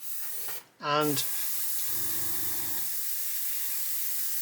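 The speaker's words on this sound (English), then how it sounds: "I'm spraying it very, very lightly to keep it dry." Paint thinned with about 70% thinners is sprayed very lightly over stencil masks, giving a steady close hiss that runs from about one second to the end, with a brief spoken word just before it.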